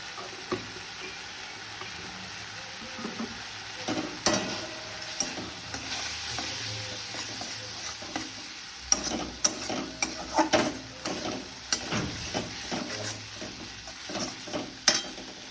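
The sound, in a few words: spice paste with turmeric frying and stirred in pan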